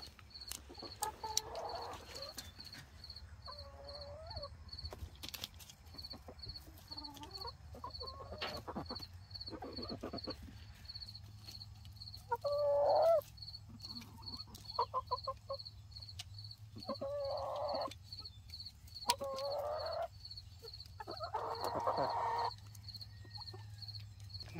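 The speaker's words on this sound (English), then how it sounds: "Is this a hen or rooster?" Chickens cluck softly in scattered bursts, some close and some farther off, over a quiet background with a faint high chirping tone.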